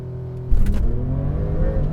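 A 2021 Porsche 911 Turbo S launches hard from a standstill, a sudden loud surge of engine roar at half a second that holds a strong, steady rumble to the end.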